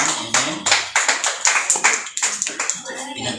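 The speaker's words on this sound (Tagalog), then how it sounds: "Palakpak sa Panginoon." A church congregation gives lively applause for the Lord, loud dense clapping with steady rhythmic pulses throughout, close and filling the room, with no talk over it.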